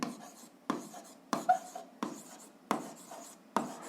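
Pen strokes on paper during a seventh-grade algebra exercise: six distinct scratching bursts spaced roughly every half second to second, close and fairly quiet, with no talk over them.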